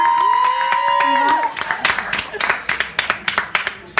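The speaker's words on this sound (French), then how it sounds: "On l'applaudit pour l'encourager." Audience clapping and applause at a Miss Cameroun France 2017 pageant, starting under music and then breaking into scattered, loud individual claps from a nearby crowd.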